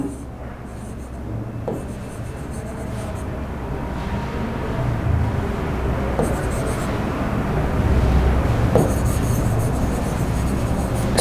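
A pen scratching across paper while someone writes out an English exam answer, soft continuous scribbling strokes under steady speech, with a low background hum.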